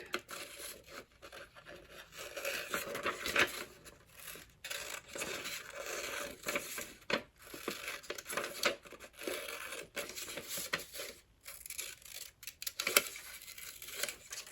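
Quiet, irregular snipping and crinkling as paper scissors cut a shape from paper close by, with small cuts and rustles coming in uneven bursts.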